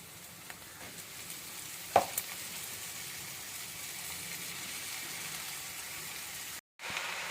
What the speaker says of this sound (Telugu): ఉడికిన క్యాబేజీ మొత్తం ఇలాగా పోపులో వేసాము కదా, మొత్తం ఇలాగే ఒక 2 మినిట్స్ కలిపెట్టుకుంటూ ఉందాము.